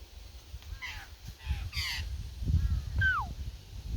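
Birds call at dusk, and the caller may be an Australian magpie. Several short, warbling, crow-like calls come at close range over low wind rumble, ending in a sharp downward-sliding note.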